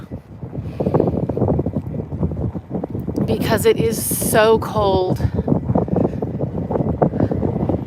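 Heavy wind buffets the microphone on the Southwest Washington DC waterfront in a steady low roar while a person talks over it.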